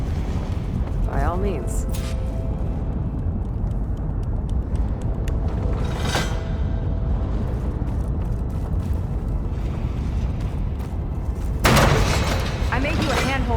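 Heavy ballista shots in Horizon Forbidden West, two broad booming impacts several seconds apart over a steady game soundscape, with a character speaking in between.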